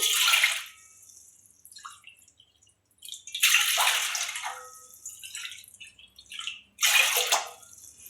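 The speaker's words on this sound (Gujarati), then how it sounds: "3 વાટકા આપણે પાણી ગરમ મૂકશું" Water is poured into a pot for boiling while cooking moraiya vada, in three separate splashing bursts with quiet pauses and small drips between them, close and fairly loud.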